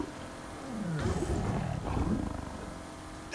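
Tiger roaring in a video game: loud, drawn-out growling roars that rise and fall twice, close and alone with no talk.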